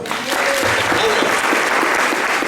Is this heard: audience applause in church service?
yes